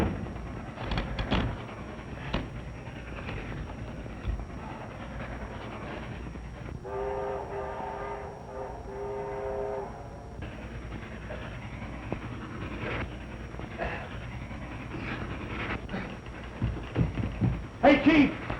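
Phantom Express steam train rolling past with rumbling wheels and clatter, a sustained multi-tone whistle sounding through the middle, and loud bursts as it draws near and passes; voices talk over parts of it.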